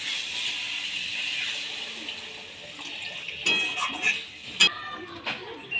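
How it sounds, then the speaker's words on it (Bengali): Water poured into a hot pan of fried cauliflower and potatoes, a steady hiss and splash that gives way to a few sharp sizzling bursts and clinks near the end. "এবার এটাকে নেড়ে নিয়ে জল ঢেলে দিচ্ছি।"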